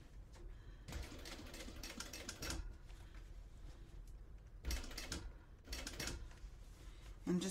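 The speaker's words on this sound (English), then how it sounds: "I'm sewing it with my gusset up so I can fill it" A sewing machine runs slowly through a packing cube gusset in several short bursts of stitching, close and quiet, with pauses between runs.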